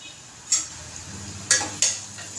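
Onion fries for a Marathi vangi batata rassa, brinjal and potato curry, with a low steady sizzle. A spoon stirs it in the pan with three short sharp scrapes and clinks.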